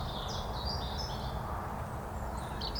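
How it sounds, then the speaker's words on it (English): Faint birdsong chirps high above a steady low outdoor rumble on an autumn homestead, scattered calls coming and going throughout. "the sounds of the birds behind me"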